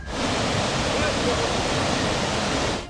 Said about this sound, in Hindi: फ्लैश फ्लड यानी अचानक आई बाढ़ में वो गाड़ी बह गई और पानी अपने साथ उसे काफी दूर तक बहाकर ले गया